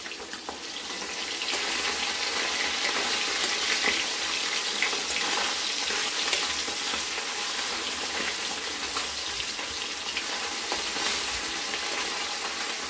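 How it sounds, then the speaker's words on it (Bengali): Small puti fish fry in a pan of hot oil, a steady broad sizzle that holds close and even throughout, with faint clinks and stirring underneath and no voices. "মাছটার একদিকে ভাজা হয়ে গেছে, এবার মাছটাকে আমরা উল্টে দেব।"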